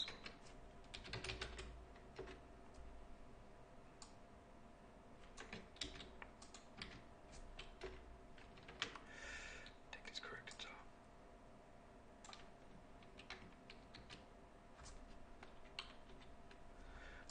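Keystrokes on a computer keyboard clatter in scattered bursts during a coding session, heard faintly under quiet background noise with soft voices.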